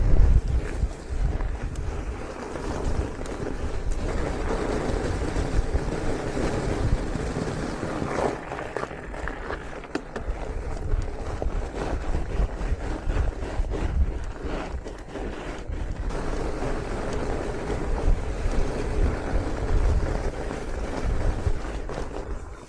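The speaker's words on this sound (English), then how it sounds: "Oh, this is windy." Heavy wind buffets a coastal trail near Trondheim on a fat-bike ride, a loud continuous rushing roar with gusty microphone rumble throughout and no talking.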